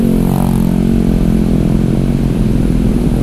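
A full-fairing motorcycle's engine drones loud and steady while climbing a hill on a mountain road, a close, unbroken mid-pitched hum with no talk over it.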